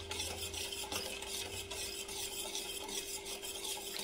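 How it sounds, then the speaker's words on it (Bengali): Semolina for an eggless sponge cake is stirred and mixed in a bowl, making a close, steady gritty rasping with rhythmic scraping strokes and a faint underlying hum. "তো এবার আমি সুজিটাকেও ভালো করে মিশিয়ে নেব, নাড়াচাড়া করে ভালো করে মিশিয়ে নিতে হবে"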